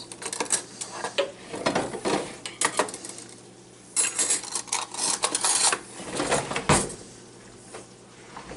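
A metal spoon clinks against dishes and kitchenware in a series of bright, close taps and rattles, with short pauses between, and no talking.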